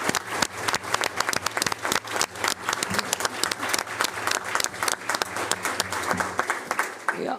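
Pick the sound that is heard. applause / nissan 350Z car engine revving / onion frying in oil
applause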